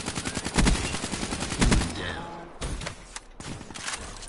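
Rapid bursts of sharpshooter gunfire from a Dark Matter AK in a Call of Duty match, loud and close, with a dense run of shots in the first two seconds then sparser cracks, mixed with background game noise and talking.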